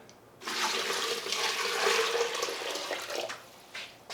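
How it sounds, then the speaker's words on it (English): Water pours into a rock tumbler barrel holding 180 to 220 silicon carbide grit, a steady, close splashing rush lasting a few seconds before tapering off. "Just gonna add some water."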